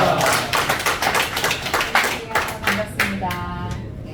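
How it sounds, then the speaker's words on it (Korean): A church congregation applauds to welcome a pastor at a men's fellowship Sunday morning worship service, a dense wash of many hands clapping steadily and fairly loud throughout, thinning slightly toward the end. "나오실 때 할렐루야로 큰 박수 치시기 바랍니다."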